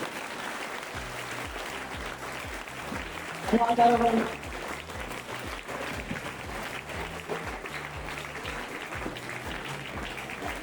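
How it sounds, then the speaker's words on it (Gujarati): Students at a school quiz competition in Banaskantha, Gujarat clap together in a short, loud burst of applause lasting under a second, framed by a teacher's amplified speech before and after. "તાળી પાડો હવે ફરતી"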